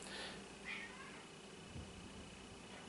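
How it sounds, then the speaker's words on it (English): A house cat lets out a couple of faint meows against quiet room tone, the first near the start and another brief call shortly after. "sorry, the cat went off."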